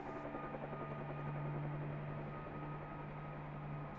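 A helicopter flying during a wild horse roundup gives a steady rotor drone at moderate distance, fairly faint and continuous, with no speech.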